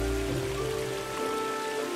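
Water trickles and splashes steadily in a mountain stream swollen by recent heavy rain, a continuous close rushing babble with no voices.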